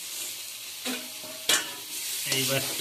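Foraged forest mushrooms sizzle in a pan while a utensil stirs them, making a few sharp scraping bursts over a close frying hiss, with a brief spoken phrase.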